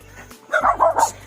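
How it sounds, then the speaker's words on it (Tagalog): Small, short-legged dogs bark outdoors near the sea in Batangas, a quick run of three or four sharp, close barks over a low background hum. "Tignan mo yung aso, ang tapang."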